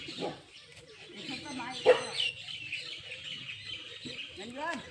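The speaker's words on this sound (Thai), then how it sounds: "จะต้องเห่ากันทุกวันทำไม" Dogs bark and yelp in scattered short bursts outdoors, fairly close, mixed with bird chirps and people talking.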